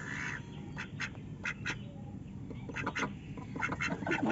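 Domestic ducks kept in a duck house quack in short repeated bursts, fairly close, over a low steady background with no talk.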